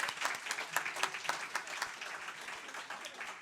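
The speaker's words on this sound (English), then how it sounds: "a huge round of applause for our panelists" Applause for a panel discussion on outdoor tourism, a modest room's worth of people clapping with sharp individual claps standing out, fairly quiet and fading slightly toward the end.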